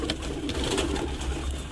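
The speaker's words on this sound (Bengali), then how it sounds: "এগুলো কিন্তু ট্যাডি পায়রার বাচ্চা, এটা কোবরা ট্যাডির বাচ্চা।" Cooing from young Teddy and Cobra Teddy pigeons, a steady low murmur of overlapping soft coos that runs through the whole stretch at moderate loudness, with no talking.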